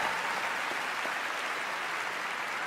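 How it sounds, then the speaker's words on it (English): Game Awards audience applause, a steady wash of clapping from a large crowd, moderately loud and continuous without voices. "So please, a round of applause for them."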